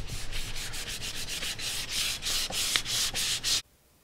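Sandpaper rubbing rhythmically across a rare Brabus Monoblock wheel for a Mercedes-Benz W124 coupe, a steady run of close, raspy back-and-forth strokes that stops abruptly near the end, with no talking.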